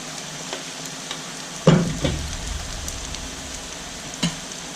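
Oil sizzles softly and steadily while onion fritters (onion bhaji) fry, with a few light knocks and clinks from moving them around in the pan.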